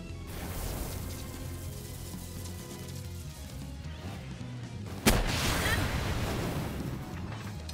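A gunshot in Palworld cracks out as a single sharp, loud report partway through, over a continuous rumbling, wind-like game ambience that stays heavy before and after.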